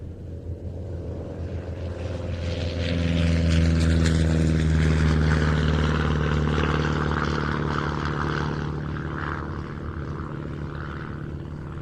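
Several propeller aircraft at an airshow hold a loud, steady droning hum together, the engine tones swelling midway and then easing slightly toward the end.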